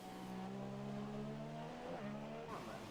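A race car engine in a racing video game holds a steady, sustained high drone at full throttle, with pitch shifting near the end as it changes gear, heard fairly faintly.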